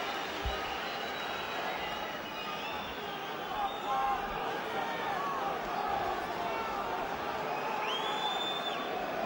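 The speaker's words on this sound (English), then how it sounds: "And now the crowd raise their voices once again." Boxing arena crowd roaring and cheering ahead of a championship fight, a steady loud wash of voices with whoops and whistles rising above it.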